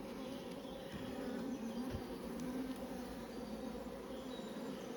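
Honey bees buzz steadily around a hive where frames of stored nectar and bees carrying red pollen are being handled, a continuous close drone with no talk.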